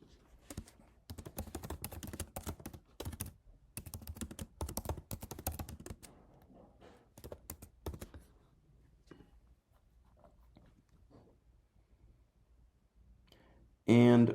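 Bursts of rapid keystrokes on a computer keyboard while naming a new app, quiet and close, fading to sparse taps before a short loud thump at the end.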